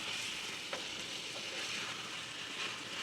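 Ginger garlic paste frying in a pan for a capsicum chicken gravy, a steady, fairly close sizzle with a few faint stirring touches, no talk over it.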